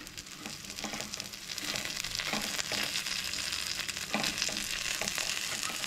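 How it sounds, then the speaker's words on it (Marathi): Prawns coated in ginger-garlic paste fry on one side in a pan for a Goan dry prawn curry, giving a soft, steady crackling sizzle with a few faint stirring scrapes, moderately quiet and without speech. "सो आता ती एका सायडीन बरी फ्राय करून घेऊया"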